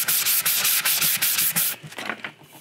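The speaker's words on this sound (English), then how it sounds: "I'm gonna take this ultra fine, super fine sanding sponge of about 400 and go over it" Rapid back-and-forth scraping of a fine 400-grit sanding sponge on a quarter-scale Spider-Man sculpture, close and steady in even strokes, then lighter, slower rubbing toward the end.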